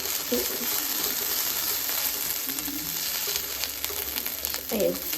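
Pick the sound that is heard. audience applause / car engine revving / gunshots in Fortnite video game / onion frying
onion frying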